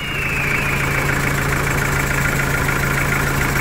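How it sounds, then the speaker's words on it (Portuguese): A Toyota Hilux 3L diesel engine runs steadily at idle with a freshly fitted bearing, its even mechanical drone continuous and fairly loud throughout with no voices. "Para muitos, este é o melhor som de motor."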